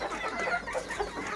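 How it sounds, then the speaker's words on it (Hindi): A hen with some Amroha blood crossed into her line, from an Aseel fancy flock, clucking close by in a low, continuous stream of throaty murmurs and soft grunts, alone without talk. "तो प्यारी मुर्गी है"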